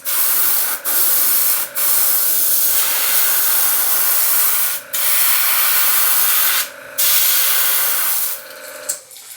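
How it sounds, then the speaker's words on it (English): An airbrush sprays paint onto river-found fishing lures in long steady hissing bursts that break off with short gaps and sputters as the clogging nozzle catches, close and loud, with no voices. "Maybe I should have cleaned the airbrush before I start working. It's clogging up on me."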